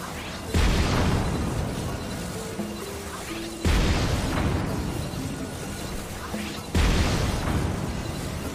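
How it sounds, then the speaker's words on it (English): A homemade contraption gun built in Zelda: Tears of the Kingdom fires at enemies: three heavy booming blasts spaced about three seconds apart, each followed by a rumbling decay, over a steady background of game sound. "Yuran120 has built a fully functional gun in TOTK. He can even move it around with Ultra Hand, and it continues to shoot enemies."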